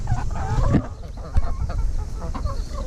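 Backyard laying hens kept for their eggs cluck and squawk close by in a run of loud, uneven calls with short pauses between bursts.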